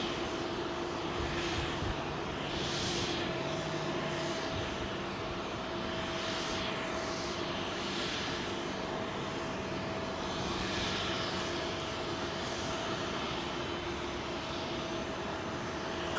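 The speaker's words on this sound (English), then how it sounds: "I think he's going to turn and burn this 380." An Airbus A380 jet airliner on runway 27L at London Heathrow gives off a loud, steady engine roar that stays constant throughout, heard from a distance outdoors, with no talking.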